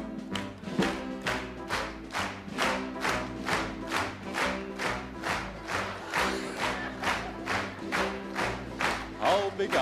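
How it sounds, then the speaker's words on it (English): An audience claps steadily in time along to a song on an old-time variety stage show, a loud regular beat of crowd handclaps running throughout with music and voices mixed in. "give us something that can clap the hands to"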